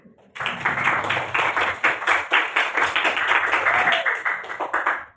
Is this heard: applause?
yes